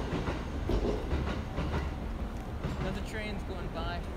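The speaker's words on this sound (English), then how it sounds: "Another train's going by." A train passes close by with a loud steady rumble and faint clickety-clack, while a person talks over it.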